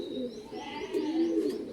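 A Dashu Madras pigeon gives a soft, brief coo up close, a low throaty burble lasting about a second.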